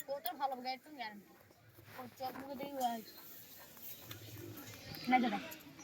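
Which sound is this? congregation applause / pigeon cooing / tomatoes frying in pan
pigeon cooing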